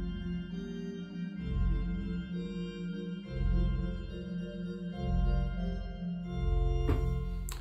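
A pipe organ on a Baroque sampleset from Bückeburg plays a bright, shiny small flute stop coupled with an 8-foot stop, sustained chords moving in phrases with a steady, full low register and a brief noisy burst near the end.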